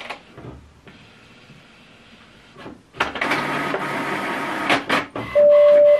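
An HP Envy 6020 inkjet printer prints, starting with quiet clicks and a soft mechanical hum, then a loud paper-feed whir and rattle with brief bursts, ending in a steady electronic tone, close by with no speech.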